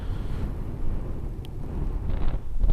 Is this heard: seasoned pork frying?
no